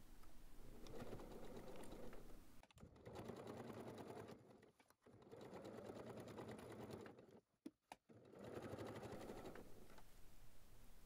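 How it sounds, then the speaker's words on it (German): Sewing machine stitching fabric bag pieces together all around, a close, rapid mechanical rattle in several runs of a couple of seconds, separated by brief pauses and small handling clicks. "Dann werden die Teile einmal rundherum aufeinander genäht."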